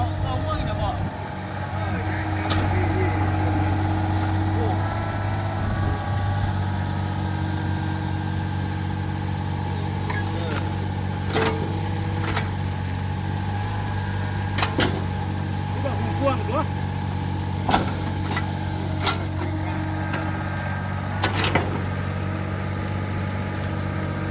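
A Cat 303 CR mini excavator of about three tonnes runs at a steady, close diesel idle, its low drone continuous throughout while someone talks over it.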